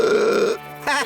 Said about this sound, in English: Said Sophie before letting out a huge burp.